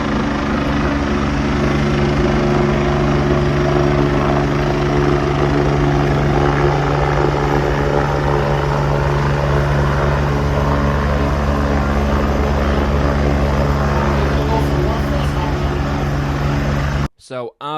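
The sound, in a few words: helicopter landing at a racetrack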